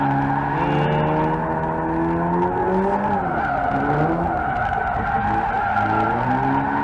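A Subaru BRZ drifts, its tires skidding and squealing in a loud, continuous howl with wavering pitch as the car slides, the engine droning beneath throughout.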